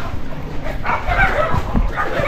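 A dog yips and barks in short bursts outdoors near a home in the Philippines, with people talking close by over the barking.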